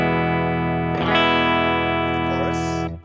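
An electric guitar with a clean worship-style tone rings out a sustained chord, then a new chord is struck that rings on loudly and near before being cut off, with no talking.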